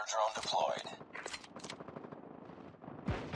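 An Uzi submachine gun in Call of Duty Mobile fires in quick, rattling bursts, fairly faint against game effects, with someone talking over it.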